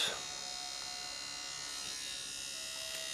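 A nano tattoo machine runs at low voltage with a steady, even electric buzz, close and continuous, with a faint voice briefly underneath.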